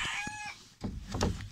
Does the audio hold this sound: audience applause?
no